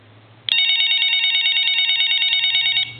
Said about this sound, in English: That turns it off, and it's still ringing.